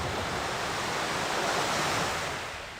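Gentle ocean waves wash against the shore of a quiet bay in a steady, broad surf hiss with a light breeze, close and even, easing slightly at the end, with no voices.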